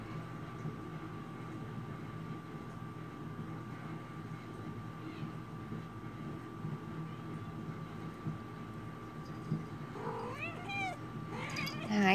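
A cat meows a few times near the end, the calls rising over a steady background hum that runs through the whole stretch.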